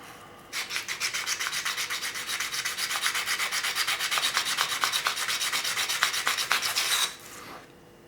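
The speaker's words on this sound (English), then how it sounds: "just use some of the deeper grit just to smooth those inner faces a bit" Abrasive grit sanding the inner faces of a cheap ruling pen, close and steady rapid back-and-forth rubbing strokes for about six seconds before stopping abruptly.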